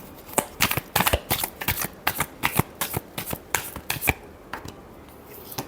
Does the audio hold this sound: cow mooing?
no